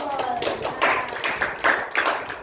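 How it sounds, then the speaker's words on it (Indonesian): A classroom of students claps hands in a short burst of irregular claps, fairly close and moderately loud, with a voice talking under it. "Beri tepuk tangan kepada Zul."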